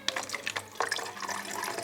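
Murky swamp water near Pripyat in the Chernobyl zone is scooped into a container, with brief splashes and pouring gurgles close by and no voices.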